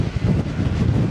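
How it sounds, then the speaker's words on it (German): Steady wind buffets the microphone during an e-bike ride in Denmark, a loud, continuous low rumble with no other sounds. "Aber der Wind begleitet mich die letzten Tage."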